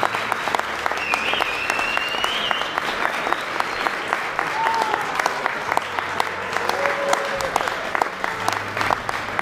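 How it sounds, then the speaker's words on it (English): Wedding guests clap steadily for the couple at a reception, a dense, sustained round of applause with faint cheers and whistles mixed in throughout. "give them a big round of applause"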